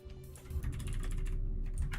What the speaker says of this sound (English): I'll try typing.